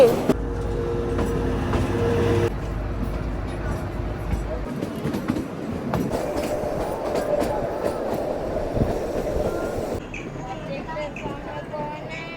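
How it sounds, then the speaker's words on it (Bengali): The Kalka–Shimla toy train, a small mountain train, rumbles and clatters along the tracks, wheels and carriages rattling steadily, with shifting loudness as it rolls on. "আর কালকা সিমলায় টয় ট্রেনে যাচ্ছি।"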